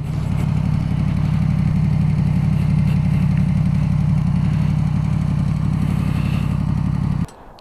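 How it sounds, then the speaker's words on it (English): A Yamaha MT-10 four-cylinder motorcycle fitted with an Akrapovic exhaust runs close by, a loud, continuous grunty drone with a faint clattering texture, which cuts off abruptly near the end with no talk. "Aquaprovic exhaust, which sounds absolutely mustard"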